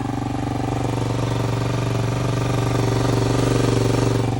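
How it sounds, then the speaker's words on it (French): A motorcycle engine runs steadily and loudly up close, a continuous low rumble with a fast pulsing beat and no talking. "Écoutez le bruit du moteur."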